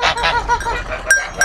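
Goats at an olive grove giving several short, nasal bleats in quick succession, close and fairly loud, with a brief higher cry near the end.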